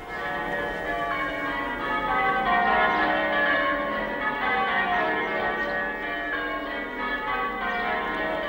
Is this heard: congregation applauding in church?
no